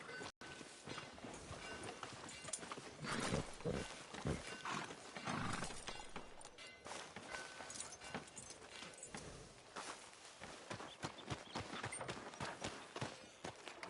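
Horse hooves clip-clop steadily in Red Dead Redemption 2, a continuous run of close, rhythmic hoofbeats over ambient game sound, with faint talk in the background.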